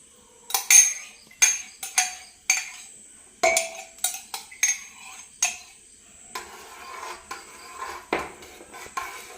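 A spoon scrapes and clinks against a pot while stirring thick coconut milk into herbal rice porridge, in a run of sharp, close, uneven strokes with short pauses and no voices.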